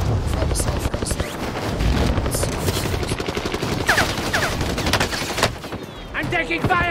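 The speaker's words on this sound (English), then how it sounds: "I'm taking fire!" Rapid automatic gunfire in Call of Duty Warzone, dense overlapping bursts and rattling shots near and far, continuous and loud with brief gaps, with game voices mixed in underneath.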